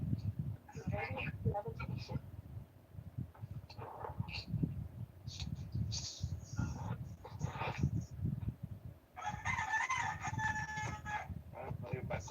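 A rooster crows in the distance during the daytime, its call rising over steady background noise and intermittent voices talking, with a longer drawn-out crow standing out near the end.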